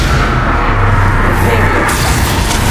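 A Bombarda spell explodes in Hogwarts Legacy, a loud, dense blast of roaring, rumbling noise that fills the whole moment without a break.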